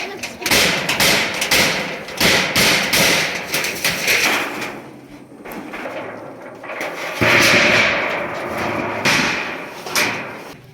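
Loud, repeated hammer blows thud in uneven bursts close by, with pauses between strikes and some background voices.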